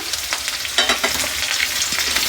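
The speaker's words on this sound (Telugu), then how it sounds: "ఈ రైస్ మంచిగా వేపుకోవాలి కొద్దిగా గోల్డ్ కలర్ రావాలి ఇదే టైంలో ఈ పచ్చిమిర్చి కరివేపాకు మొత్తం వేసేసిన" Rice frying in oil with green chillies and curry leaves, a steady close sizzle with scraping stir strokes through the whole stretch, no voices.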